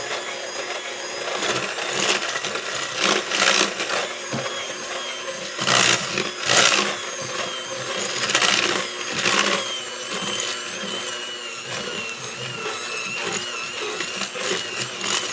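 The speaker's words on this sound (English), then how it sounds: "I'm just gonna give this a quick mix up." A stand mixer or electric beater whirs through dry cookie ingredients, including salt, in a bowl, a loud steady motor drone with rising bursts as the speed picks up, close and continuous.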